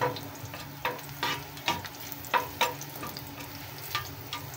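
Garlic fries in oil in a pan, a soft continuous sizzle with several sharp scraping strokes of a spatula at fairly regular intervals, heard close up with no voices.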